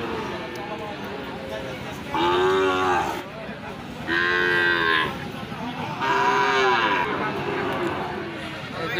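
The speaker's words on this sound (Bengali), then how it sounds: "খামার উপযোগী এই যে দেখুন শাইওয়াল জাতের সার" Sahiwal bulls at a village cattle market let out three long, loud, deep moos, each about a second and a half, spaced evenly with crowd murmur underneath.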